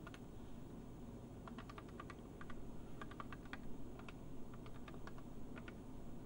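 Someone types on an Apple II computer keyboard, with scattered bursts of key clicks, quiet and close over a steady background hum.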